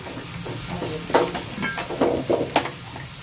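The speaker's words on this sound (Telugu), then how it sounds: "ఇప్పుడు కట్ చేసి పెట్టుకున్నాం కదా బీరకాయలు, ఉల్లిపాయలు, అవన్నీ ఇట్లా ఆ తాలింపులో వేసేయాలి." Chopped ridge gourd and onions sizzle and crackle in hot tempering oil in a pan, with a steady frying hiss and several sharp bursts as they are stirred in.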